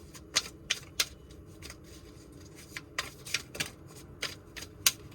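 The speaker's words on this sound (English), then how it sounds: "Just one more shuffle here." Tarot cards are shuffled close up, giving a quiet run of crisp riffling snaps and flicks in an uneven rhythm, with no talking.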